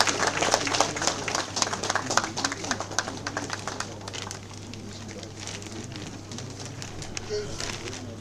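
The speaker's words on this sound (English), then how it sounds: "Can you have a huge round of applause" A seminar audience gives a round of applause, dense clapping that is loudest at the start and gradually thins out, with a voice speaking faintly over it.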